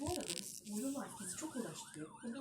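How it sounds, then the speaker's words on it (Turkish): Police siren in Roblox during game loading, a wailing tone that rises and falls repeatedly, fairly clear and close, carried through the computer audio. "Ve polis sesleri geldi."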